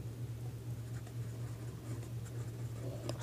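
A pen scratches steadily across paper while someone works through a class 10 math solution, soft close strokes over a low steady hum, with no talking.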